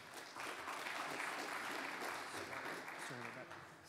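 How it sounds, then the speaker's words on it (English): Conference audience applause follows a lightning-talk session at a Stanford blockchain event, with dense, steady clapping from a hall full of people and faint voices mixed in. "So let's give a huge round of applause to all of the Lightning speakers"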